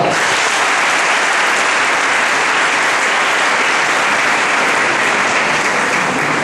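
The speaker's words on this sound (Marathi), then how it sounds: "टाळ्या वाजवत" An audience at an engineering college event applauds: dense, steady clapping from many hands, loud and sustained for the whole stretch, with no talk over it.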